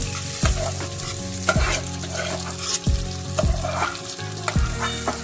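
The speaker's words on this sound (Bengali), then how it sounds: "এবারে আমরা মেখে রাখা চালটা দিয়ে নেব।" Rice frying in oil with whole garam masala spices as basanti pulao, stirred in a pan, giving a continuous sizzle under repeated close scraping strokes of a spatula against the metal, about once a second.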